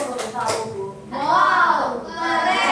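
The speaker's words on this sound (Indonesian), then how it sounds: "kita kasih tepuk wow untuk kelompok 1" Children performing the tepuk wow clapping chant in a classroom group activity, with a few sharp claps followed by sung chant voices, loud and close.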